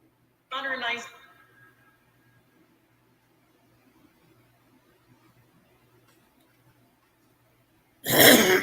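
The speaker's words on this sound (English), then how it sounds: "Excuse me, I'm clearing my throat." A short, rough throat-clearing burst near the start, followed by near silence, then another loud noisy burst at the end.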